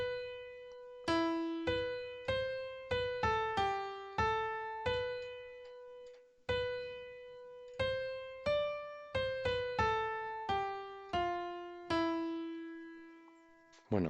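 A Bach chorale's soprano melody played note by note in a slow, steady hymn-like rhythm, clear and solo with short pauses between phrases.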